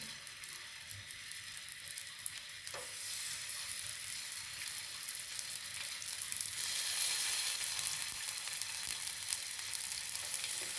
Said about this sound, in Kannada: ಇವಾಗ ಎಣ್ಣೆ ಸ್ವಲ್ಪ ಕಾದಿರುತ್ತೆ ಅದಕ್ಕೆ ನಾನು ಇವಾಗ ಕಟ್ ಮಾಡಿರೋ ಆಲೂಗಡ್ಡೆನ ಹಾಕ್ತೀನಿ ಒಂದೊಂದೇ